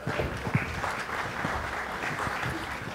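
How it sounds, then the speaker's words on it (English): A conference audience claps together in a short burst of moderately loud applause with a few sharper individual claps near the start. "A round of applause for Ron."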